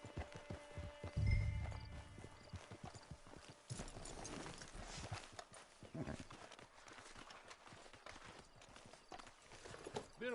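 Horse hooves in Red Dead Redemption 2 Online: steady clip-clop footfalls of a horse walking at a camp, faint and continuous under background ambience, with brief speech at times.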